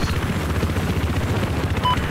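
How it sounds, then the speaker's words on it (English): Helicopter rotor thump in the Battlefield 4 video game, a steady low pulsing drone filling the whole stretch with game noise on top and no talk over it. "Wait, we have a chopper again? Yeah. We got a chopper."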